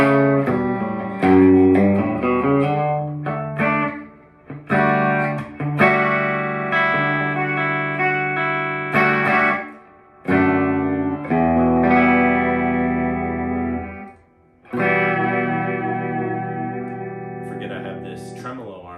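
A Squier Classic Vibe Jazzmaster electric guitar plays a sequence of chords and single notes through effects, sounding husky and mid-range heavy, with short pauses between phrases and no talking over it.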